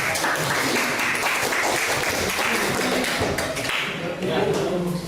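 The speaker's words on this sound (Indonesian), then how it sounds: "kita beri tepuk tangan" Classroom applause for a student group's project, loud continuous clapping filling the whole span, with a few voices blending into the crowd noise.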